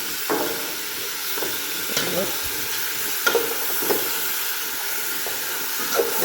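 Bay leaf and lemon sizzle in hot oil in a frying pan, giving a steady close hiss with scattered pops and crackles throughout.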